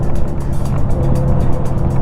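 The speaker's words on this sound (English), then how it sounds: "Somebody on a sport bike that I don't know." A sport bike motorcycle rides past up close, a loud continuous engine rumble holding steady throughout with no talk over it.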